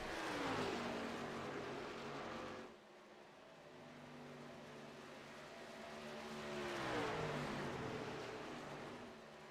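Racing trucks at Texas Motor Speedway roar past twice, each engine note swelling and dropping in pitch as it sweeps by, heard from a distance and fairly faint.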